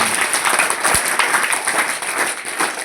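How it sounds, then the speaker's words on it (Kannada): A crowd at a government school event claps steadily in dense, continuous applause, fairly loud and close, with no voices standing out. "ಒಂದು ಚಪ್ಪಾಳೆ ಬರಬೇಕು"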